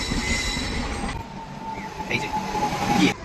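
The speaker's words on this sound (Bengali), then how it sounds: "শিয়ালদা নিউ দিল্লি রাজধানী এক্সপ্রেস চারটা পঞ্চাশে" A Sealdah–New Delhi Rajdhani Express rolls through Dumdum Junction, loud and close, with rumbling wheels, a high metallic squeal and rail clatter that drops abruptly partway through while a steady tone continues.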